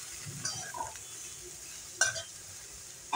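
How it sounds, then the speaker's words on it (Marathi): Chopped cabbage stir-fried in a pan over a medium flame, with soft scraping and stirring of a utensil and a faint sizzle, a few sharper clinks of the spoon against the pan standing out. "अर्धा गड्डा घेतलेला आहे कोबीचा, तो चिरून घेतलेला आहे, स्वच्छ धुवून घेतलेला आहे आणि तो याच्यामध्ये आपण टाकून हे आपण छान परतून घ्यायचं"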